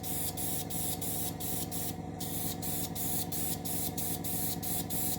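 Spray paint hisses steadily as a dust coat goes onto a model of a Russian Navy Project 955 Dolgoruky submarine, a close, continuous spray interrupted by short regular pauses in the nozzle.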